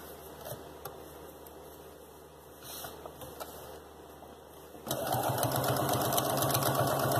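A sewing machine stitches along the edge of a fabric lining for baby shoes, fastening it to the main fabric. It hums steadily and close up before switching to a louder, fast, continuous run for the last couple of seconds.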